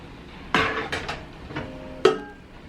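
A Philips air fryer's metal rack and basket are pulled out for washing, giving two sharp metallic clanks with lighter rattles between them, close by and without talk.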